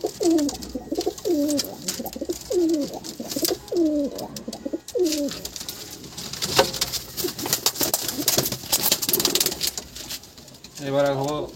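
Giribaz pigeons, a pair of green birds (cock and hen), coo in a steady run of repeated rolling calls for the first several seconds, close by, followed by rustling noise and a brief burst of cooing near the end; a voice is faintly present.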